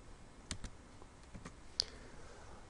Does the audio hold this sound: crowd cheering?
no